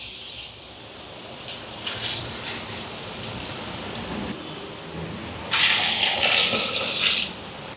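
Coconut milk pours into a cooking pot with a steady liquid rush and splashing, close and fairly loud, swelling into a heavier gush near the end before easing off.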